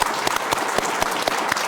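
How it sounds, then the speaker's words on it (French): An audience applauding at a French talk show, brief steady clapping with distinct sharp claps standing out over the dense patter. "j'aimerais qu'on lui fasse un tonnerre d'applaudissements"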